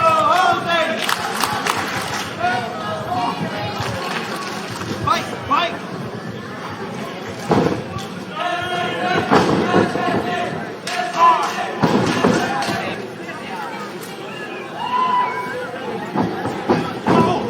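A jam-packed crowd at a wrestling show in a Catholic high school gym roars and chatters throughout, punctuated by loud thuds and slams from the ring, with a commentator talking over the noise.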